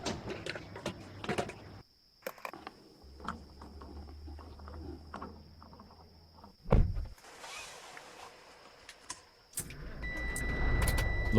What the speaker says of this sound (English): it just sounds like the guy gets back in the cab and turns the key, and the engine starts